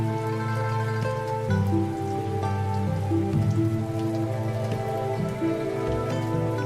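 Steady rain falls continuously, a soft even patter with a low tonal hum running beneath it; no voices, just the constant wash of drops.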